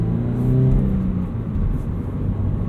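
A 2017 Toyota 86 engine pulls hard under acceleration, a steady low drone rising in pitch with a brief dip partway through as the gearbox shifts, heard close from inside the cabin.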